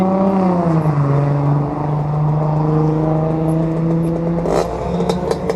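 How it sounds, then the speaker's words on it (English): Ford F100 4x4 short bed truck with a six-cylinder engine and 4-speed gearbox, loud close engine revving with a falling then rising drone and clear harmonics, ending with some clatter. "my buddy Travis has an F100 4x4 short bed, 6-cylinder 4-speed truck"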